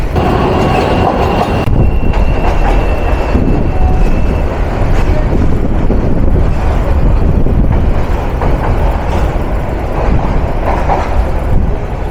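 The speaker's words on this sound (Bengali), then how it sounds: "তো চলুন বাকি পথ আমরা এই রাতের যাত্রা উপভোগ করি মহুয়া কমিউটার ট্রেনে" Aboard the Mohua commuter train on a night run to Dhaka, a loud, continuous rumble of wheels and carriage, with rattles and faint squeals riding over the steady low roar.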